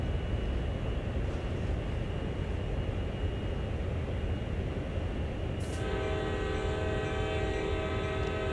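Diesel locomotive horn sounding in Train Sim World over a continuous rumbling engine, a sustained tonal blast that begins partway through and holds to the end.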